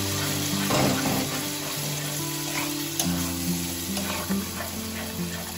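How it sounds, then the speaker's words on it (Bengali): Spice paste and tomatoes being sautéed for a small-shrimp curry, a steady close sizzle and frying hiss with occasional stirring scrapes and faint clinks throughout. "এবার এই পেস্টটা দিয়েও খুব ভালো করে এটাকে কষিয়ে নেব"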